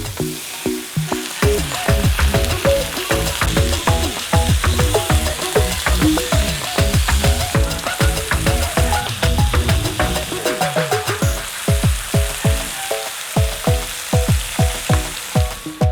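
Korean meat frying in a pan, with a dense, steady sizzle running throughout and frequent scraping and stirring clatter from utensils against the pan close by.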